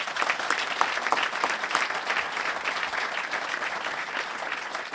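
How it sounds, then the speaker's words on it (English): A hall of fame induction ceremony audience gives steady, full applause for the 2013 IIHF Hall of Fame induction class, a dense, even wash of many hands clapping throughout at a constant level. "Could we have one final round of applause for our 2013 induction class"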